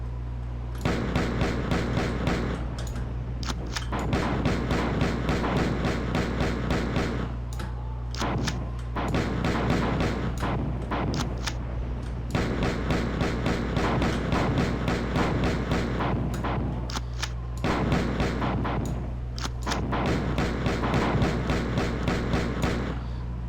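Pistol fire at troopers in Marathon 2, rapid repeated sharp shots in long bursts over a constant droning hum, with brief pauses between volleys.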